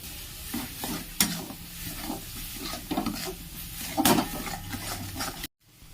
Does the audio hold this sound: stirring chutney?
yes